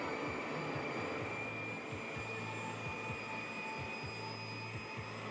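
An Intercity 125 HST diesel train in Intercity Swallow livery drones in a steady, faint run, its engine hum joined by high whines and a regular clack of wheels over rail joints.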